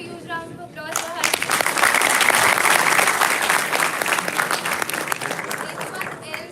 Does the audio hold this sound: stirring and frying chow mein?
no